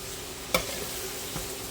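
Breast meat sautés in tail fat with a soft, steady sizzle close by, marked by a sharp utensil clack near the start and a fainter knock later as it is stirred.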